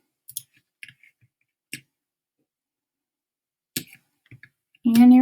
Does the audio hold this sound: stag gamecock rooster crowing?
no